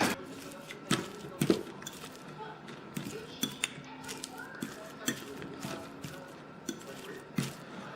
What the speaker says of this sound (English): Mash with a fork until fully combined.